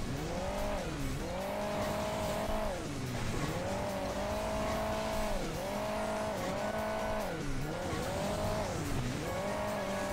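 Opponent car engine in the Hill Climb Racing 2 video game, a loud continuous drone that repeatedly revs up and dips in pitch, cycling through boosts for the full stretch with no talk.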